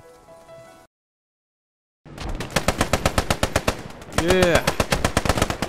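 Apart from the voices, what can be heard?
artillery and gunfire in Post Scriptum video game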